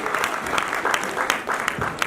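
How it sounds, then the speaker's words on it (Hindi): An award ceremony audience breaks into steady, dense applause, the clapping loud and continuous throughout the short stretch. "मैडम इंदिरा समझता के लिए जोरदार तालियां।"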